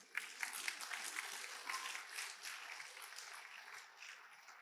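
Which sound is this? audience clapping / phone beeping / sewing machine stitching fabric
audience clapping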